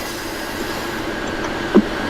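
Steady rumble of a train running on rails in the Keibana Railway video game as it passes another train, with a brief squeal near the end and no talk.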